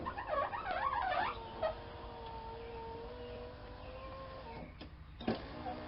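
A car's power window motor whines steadily as it drives the door glass up and down in a door with broken glass, a sustained mechanical tone, fairly faint, ending in a couple of clunks.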